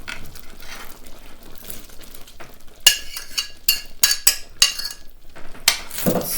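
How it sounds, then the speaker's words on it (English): Sausage being stirred in a pan for sausage gravy, with scraping, clinking utensil strokes in an irregular burst of several close, moderately loud hits after a quieter sizzling stretch. "Stir that up."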